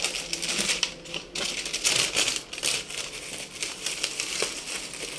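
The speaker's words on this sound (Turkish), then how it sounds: "Şimdi ajanda gelmiş. Onu açalım şimdi. Açıyorum şimdi." Crinkling and tearing of packaging as a parcel holding a planner is unwrapped, a steady run of close, busy rustles and crackles with no talk.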